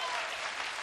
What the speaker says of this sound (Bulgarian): Аплодисменти за Сабрина още веднъж!